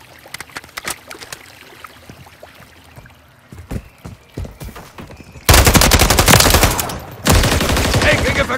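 Gunfire in Call of Duty: Modern Warfare III: scattered single shots at first, then two dense, loud automatic bursts close by.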